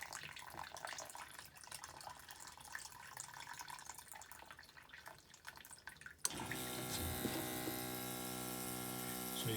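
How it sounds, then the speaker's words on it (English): A grey water system pump kicks on abruptly partway through, cutting in over soft trickling water and then holding a steady, loud mechanical hum with a whining tone. "you can hear now the pump is switched on again"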